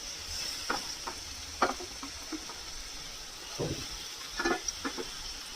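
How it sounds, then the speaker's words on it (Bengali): Carrot and turnip fry in a pan with a soft, steady sizzle, broken by several louder stirring scrapes and clatters spaced irregularly across the clip, close and without talk. "গাজরটা হালকা করে ভেজে নিয়েছি এবারে দিয়ে দেবো শালগম"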